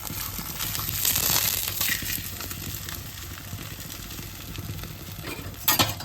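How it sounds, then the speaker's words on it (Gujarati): Steady sizzling of methi thepla flatbread frying in a pan, close by, with occasional scraping and clinks of a utensil toward the end. "આ બાજુ બીજો પણ તળવા મૂકી દીધો છે."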